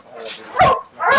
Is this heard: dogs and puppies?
yes